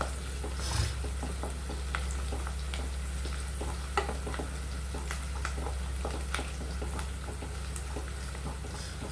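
Onions frying to a light golden colour for mutton biryani: a continuous sizzle under a low steady hum, with intermittent stirring scrapes and small crackles, no one speaking.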